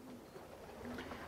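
Racing pigeons cooing in a breeding loft, a low steady murmur of soft coos continuing throughout at moderate level with no talk.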